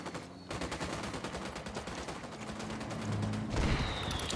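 Rapid automatic gunfire in the Ghost Recon Wildlands video game, a dense rattling stream of shots close by that runs almost the whole clip after a brief pause, with no talk.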